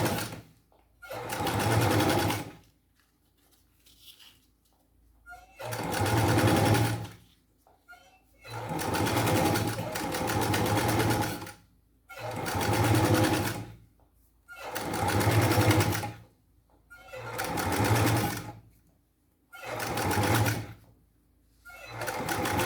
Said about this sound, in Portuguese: você vira, dobra o vivo e passa a costura